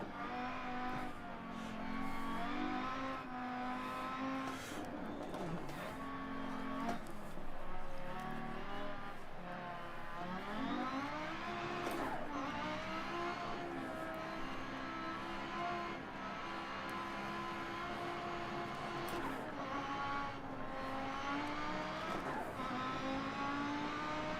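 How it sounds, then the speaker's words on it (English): A race car engine braking on the Pikes Peak hill climb drones steadily and loudly throughout, its pitch repeatedly swooping up and down through downshifts and corners, with no talk over it. "That was some beautiful engine braking."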